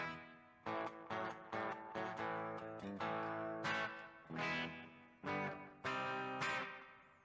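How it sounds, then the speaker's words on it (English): Electric guitar played through a Line 6 HX Effects unit with slapback and 63 reverb added; distorted chords strike in rhythmic bursts, each trailing off with a reverb tail. "I will add a little bit of the 63 reverb."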